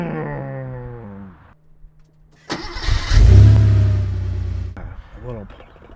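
A voice imitates a 1987 Porsche 930 911 Turbo starting up and accelerating: a spoken lead-in, a short pause, then a loud throaty vocal roar that swells and holds before cutting off, followed by more talk.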